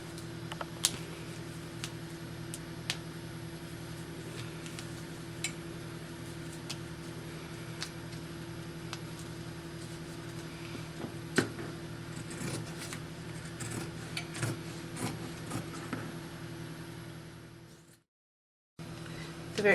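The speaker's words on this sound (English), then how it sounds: "I'm going to cut it out one more time." Scissors cut fabric pattern pieces for an 18-inch doll dress as sparse, crisp snips and small clicks over a steady background hum, with quiet handling noises between cuts.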